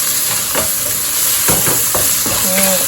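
Fried rice with kale and salted fish is stir-fried in a hot pan, enough for three plates at once, giving a steady loud sizzle broken by repeated scraping strokes of a spatula and a few brief clanks.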